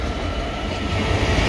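A Class 66 diesel locomotive, 66797, passing at Three Bridges, heard as a continuous loud rumble with wheel and rail rattle, steady throughout with no talking.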